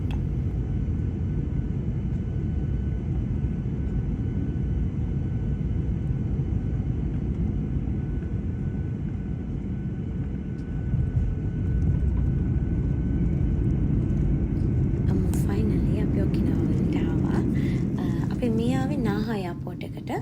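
Airplane cabin on final descent to land near Okinawa, heading for Naha, with a loud, steady engine rumble that continues throughout and grows slightly rougher toward the end, with voices underneath.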